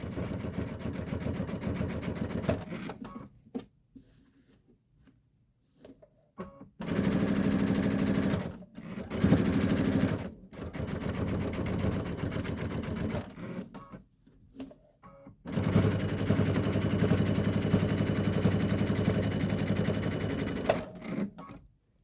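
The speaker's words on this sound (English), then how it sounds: "let's sew the whole thing" A sewing machine stitching quilt tiles together, running in long steady bursts of rapid mechanical whirring and needle clatter, separated by short pauses and quieter stretches, close and loud.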